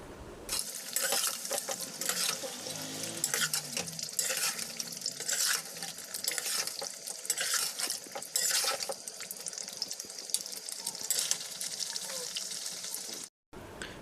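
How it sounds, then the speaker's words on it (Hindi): Cream is stirred into chicken makhni in a pan: a constant wet sizzle and bubbling hiss with scraping stirs, fairly close and steady throughout, cutting out briefly near the end. "आपने सारी क्रीम को अच्छे से इसमें डाल देनी है और इसको अच्छे से मिक्स करना है"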